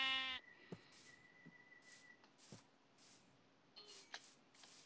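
Brief, quiet bleats from a sheep in the Minecraft video game sound among clicks and faint game noise, with a louder tonal sound at the very start and no talk over them.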